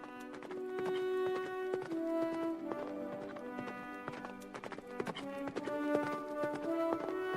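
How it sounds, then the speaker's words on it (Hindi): A prince's horse clip-clops at a steady walking rhythm, moderately loud and close, with bright repeated hoof strikes over a sustained musical background and no talking. "फिर राजकुमार घोड़े पर सवार होकर जंगल की ओर निकल पड़ता है।"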